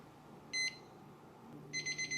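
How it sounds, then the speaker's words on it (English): A kitchen timer beeps after 35 minutes of brining chicken: one short high beep burst, then a quick run of three to four more bright beeps, clear over a quiet room. "set a timer for 35 minutes"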